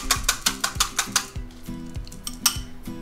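Metal baking pans of tart shells for pet-friendly pumpkin pie tarts are pulled from the oven, rattling and clinking in quick, close, repeated metallic taps.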